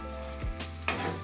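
Okra masala stirred in a pan: a low sizzle with a couple of quick spoon scrapes against the pan, brief, close and fairly quiet, no talking.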